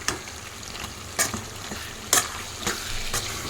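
Chicken cooks in oil for gongura chicken curry, a continuous sizzle punctuated by several sharp scraping strokes of a spoon stirring the pan, close and alone.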